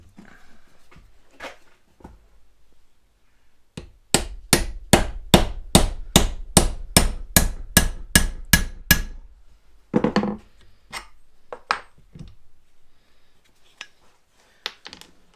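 A rivet on a Massey Ferguson tractor brake drum is hammered flat with a fast run of about a dozen sharp, evenly spaced metallic blows, followed by a few scattered louder knocks and quieter taps.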